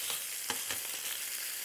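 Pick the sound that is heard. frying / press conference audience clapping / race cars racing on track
frying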